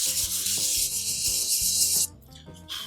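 Steady rubbing strokes of a blaster kit part being sanded flat, a rhythmic back-and-forth rasp that runs close and continuous, then stops abruptly near the end.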